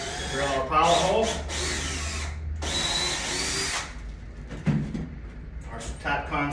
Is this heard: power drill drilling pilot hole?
yes